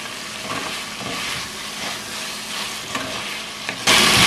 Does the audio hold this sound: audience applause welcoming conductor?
no